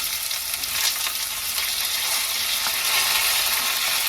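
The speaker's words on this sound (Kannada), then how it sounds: "ಈರುಳ್ಳಿ ಮತ್ತೆ ಮೆಣಸಿನಕಾಯಿ ಹಾಕೊಂಡ ನಂತರ ನಾನು ಇವಾಗ ಇದನ್ನ 2 ನಿಮಿಷದವರೆಗೂ ಫ್ರೈ ಮಾಡ್ಕೊಳ್ತೀನಿ" Onions and green chillies frying in hot oil for a bhindi masala, a steady dense sizzle with faint stirring, close and continuous with no voices.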